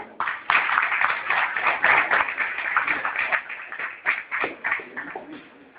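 An audience at an economic history lecture claps for a speaker, a dense, steady patter of many hands close by, lasting several seconds before thinning out at the end.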